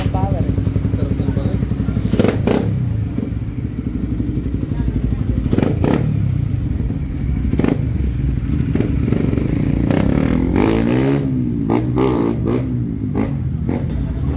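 A Raider 150 FI motorcycle with a remapped stock ECU, power pipe and Faito clutch spring revs loudly and repeatedly up close on a test drive, the engine rising and falling with clattering thumps throughout.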